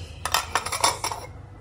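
A lid settles onto a dish of home-cooked food: a quick series of four or five light metallic clinks and rattles, close by and fairly soft, then quiet.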